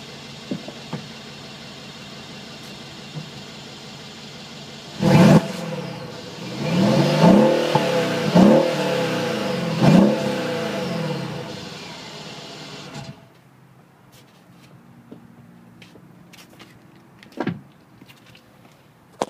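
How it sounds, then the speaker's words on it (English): A 2013 Mercedes SL550 with a new exhaust sits mostly quiet, then its engine rises in one sharp rev followed by a few shorter blips near the tailpipe. After that it settles back to a low idle with faint clicks. "let you hear the new exhaust note when you give this thing a little gas"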